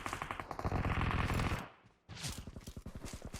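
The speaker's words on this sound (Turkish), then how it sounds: "Adam bana sıkıyor la." Rapid automatic gunfire in the PUBG video game, bursts of close, sharp machine-gun shots that stop briefly and then start again at a steady rattling pace.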